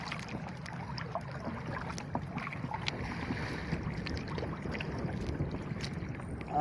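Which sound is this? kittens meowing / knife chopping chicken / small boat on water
small boat on water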